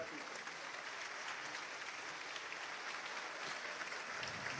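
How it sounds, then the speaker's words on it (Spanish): Steady, dense applause from a theatre audience at the Teatro Municipal in Caracas during a bicentennial gala concert, heard fairly distant and continuous with faint speech beneath. "Es parte de los aplausos que a esta hora se viven aquí en el Teatro Municipal."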